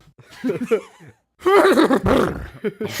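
A human voice imitates a horse's neigh as a podcast intro effect, giving a loud, wavering whinny in two bursts separated by a short pause.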